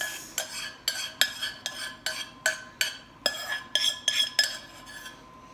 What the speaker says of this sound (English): So I'm going to add this creamy sauce.